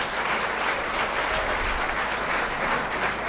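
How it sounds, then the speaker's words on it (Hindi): Loud, steady applause from a large seminar audience fills the hall without a break, a dense wash of clapping hands seen off to a departing guest. "जोरदार ताली से हम सर का विदाई करेंगे"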